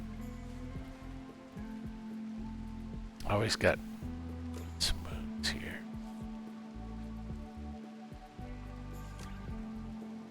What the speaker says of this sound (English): I guess it's raining